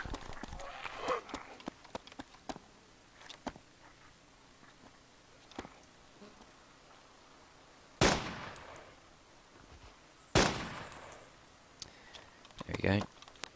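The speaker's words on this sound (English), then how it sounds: "2 shots, 2 kills." Two sharp gunshots in the zombie survival game DayZ ring out a couple of seconds apart, loud against a quiet backdrop of faint footsteps and clicks.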